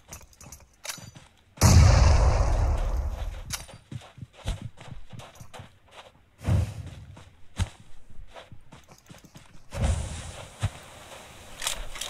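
In the PUBG Mobile video game, a grenade bursts in a sudden loud blast, followed by further heavy thuds, scattered gunshots and rapid footsteps.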